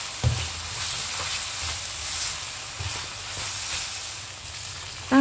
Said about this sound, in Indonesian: Selanjutnya, tumis aja semuanya hingga harum.